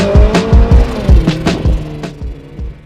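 A Mark I Rally Escort or similar car on a club championship sprint course. It is loud and close, with a rapid series of sharp engine revs, tyre scrabbles and gear-change bursts, and the sound fades slightly toward the end.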